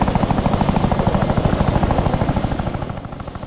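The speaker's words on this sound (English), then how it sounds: "I can't hear you in the helicopter." Loud rotor chop and turbine roar fill the cabin of a helicopter in the Arma 3 game, a fast, even beat that drops slightly in level near the end.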